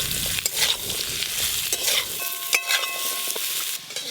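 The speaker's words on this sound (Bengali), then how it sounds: "এবার চাপা দিয়ে ভালো করে ভেজে নেব।" Pointed gourd and potatoes with spices frying in a pan, a steady close crackling sizzle with stirring scrapes, no voices.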